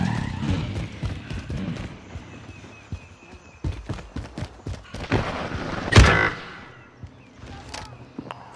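Vehicle driving in Warzone Modern Warfare, with game engine noise and rapid clattering impacts that rise and fall over several seconds, punctuated by a sharp crash near the middle.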